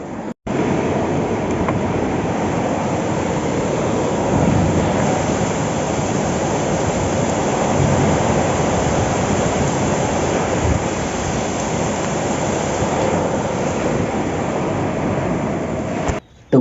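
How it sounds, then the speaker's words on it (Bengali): Heavy rain pours down at night over a village, a dense, steady roar that stays loud and unbroken with no voices. "রাত্রে জল পড়া আরম্ভ হয়ে গেছে"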